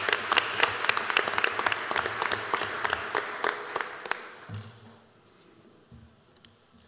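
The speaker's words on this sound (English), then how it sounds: "Let's give one more round of applause for our DECA students." A school board meeting audience applauds DECA students, with clear, fairly close individual claps at first that thin out and fade into room quiet after about four seconds.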